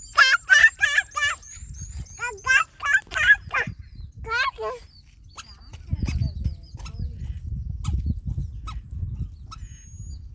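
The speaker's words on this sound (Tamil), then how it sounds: "அது கோழிப்பா" A chicken gives a quick burst of repeated clucking calls near the start, then rustling and scattered background noise follow, with a voice faint in places.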